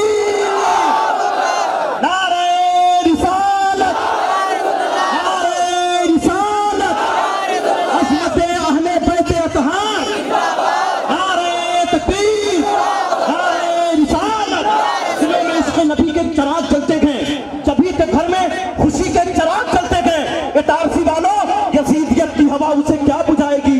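A large crowd at a religious gathering in Hyderabad roars back in unison after a Naara-e-Takbeer slogan, loud repeated chanted bursts that swell and overlap into sustained shouting.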